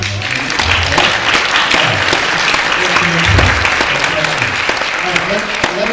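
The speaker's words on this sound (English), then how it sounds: "By applause, how many of you would think about purchasing something like that?" Loud audience applause rises in a San Diego Comic-Con 2022 convention panel hall, a thick, continuous wash of clapping with a voice speaking over it.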